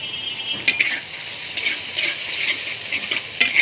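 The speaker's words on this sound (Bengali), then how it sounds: "এদিকে পেঁয়াজ, চিংড়ি মাছ আর কাঁচামরিচ ভাজতে থাকবো।" Shrimp, onion and green chili fry in a pan with a steady bright sizzle, punctuated by occasional clinks of a utensil stirring against the pan, close and moderately loud with no talking.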